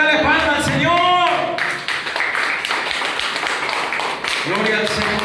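Congregation at a Pentecostal church mission service clapping hands in praise, steady rhythmic claps under loud singing or voices with music throughout.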